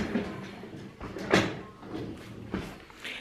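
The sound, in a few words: chair being moved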